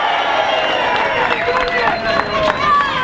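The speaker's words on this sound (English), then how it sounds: "Give her a big cheer." Crowd at a protest against factory job cuts cheering, a loud, dense swell of many voices with whoops and scattered claps, nearby and sustained, with talking mixed in.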